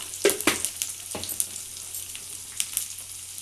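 Garlic and curry leaves fry in hot oil with a touch of turmeric, producing a continuous soft sizzle dotted with sharp crackles and pops, close and alone.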